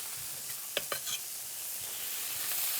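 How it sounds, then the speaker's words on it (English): Steady, soft sizzling of pancetta frying in a pan, with a few brief clinks of a utensil stirring early on. "You can hear that sizzle."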